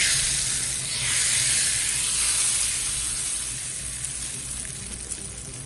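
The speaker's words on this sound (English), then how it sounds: "add 1 tablespoon of mustard seeds and let it pop up" Mustard seeds popping in hot ghee for a dal tadka, giving a steady close hiss and sizzle of frying fat that holds evenly throughout with no voices.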